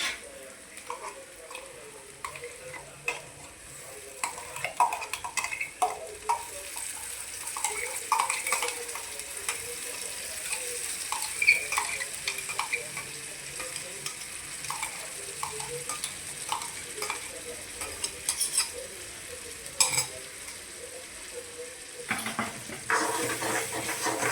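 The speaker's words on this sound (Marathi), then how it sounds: "तर त्याच्यात आपण जे वाटण केलं होतं ते वाटण त्याच्यात मिक्स करणार आहोत" Ground masala paste being stirred into softened tomatoes in a pan on medium heat, with steady scraping and soft sizzling that keeps going throughout, and occasional utensil clinks near the end.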